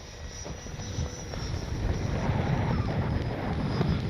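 A Freewing Mirage RC jet flies in to land, its engine a rising whooshing roar that grows louder and closer over a few seconds, mixed with wind buffeting the microphone.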